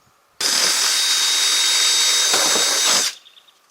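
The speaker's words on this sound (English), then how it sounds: "Those 2 holes right there, I've got to drill down through." A power drill bores a hole down through the frame of a multi-use cart, a loud steady whir lasting close to three seconds, starting abruptly and then winding down, with no talk.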